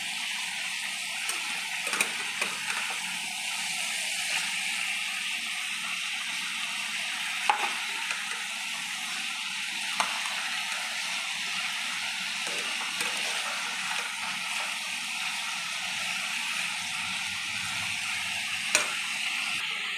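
Chicken pieces browned on both sides fry in a pan with a steady, close sizzle and hiss, broken now and then by a few sharp pops and spatters.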